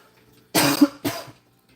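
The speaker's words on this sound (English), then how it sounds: "Sorry, I have a cough right now" Two harsh coughs in quick succession, close and loud, with silence before and after.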